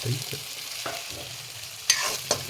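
Potatoes and onions frying in a pan over an outdoor cooking setup in a mountain valley, a soft steady sizzle with scraping stirs and a couple of sharper clinks.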